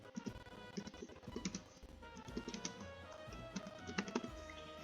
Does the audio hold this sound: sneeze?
no